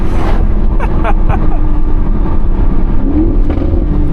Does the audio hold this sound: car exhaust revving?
yes